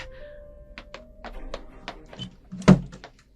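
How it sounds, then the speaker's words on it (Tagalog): A door being opened after a padlock is broken, heard as a series of small taps and clicks followed by one heavier thump, close by and fairly quiet, with no talk. "Nasira ko na ang kandado. Ngayon, bubuksan ko ang pintuan."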